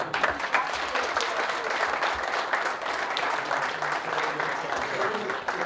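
Steady applause from fellow blood donors at an award ceremony honouring voluntary donors, a dense crowd clapping continuously and fairly loud throughout without a break.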